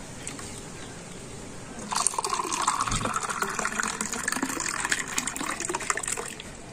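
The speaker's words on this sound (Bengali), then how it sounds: "আর এবার আমি শরবতটা দিয়ে দেব।" Mango sherbet is poured from above into two glasses of ice, a quiet lead-in followed by a steady splashing pour with faint ice clinks.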